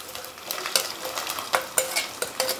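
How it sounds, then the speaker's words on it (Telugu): Boiled prawns frying in oil in a pan, with a soft sizzle under sharp spoon-on-metal scrapes and clinks coming in irregular bursts. "తర్వాత మనము ఈ విధంగా ఉడకబెట్టుకున్న రొయ్యల్ని దాంట్లో వేసేయాలి."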